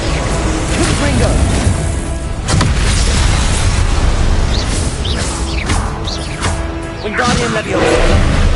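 Confringo spell explosions in Hogwarts Legacy burst again and again during a troll boss fight. Loud booms and crashes follow one another over a constant dense layer of game noise, with voices heard among them.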